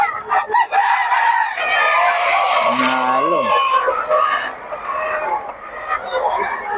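Pumpkin Sweater gamefowl roosters crowing and hens clucking nearby in Bocaue while someone talks over the birds; one drawn-out crow rises and falls in the middle.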